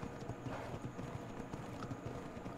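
A horse galloping in the video game ARK, with a steady, fast clip-clop of hooves under a dense, rumbling game soundscape, moderately loud and continuous.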